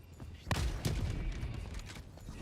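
Orbital strike explosion in a video game, a loud booming blast that hits hard, is followed by a second heavy impact, and then leaves a rumbling, crackling tail. No one speaks.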